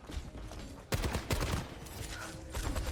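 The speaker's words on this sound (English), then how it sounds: "Did they just try to shoot him through the wall?" Gunfire in Overwatch 2 comes as dense, rapid bursts of shots with sharp onsets, loud and close, rattling on with little pause through the short stretch.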